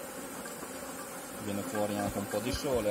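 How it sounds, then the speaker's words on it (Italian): Honeybees buzzing around an opened beehive during an artificial swarm split, a steady insect hum under an Italian voice that grows a bit louder partway through. "Ora le api pian pianino si stanno calmando"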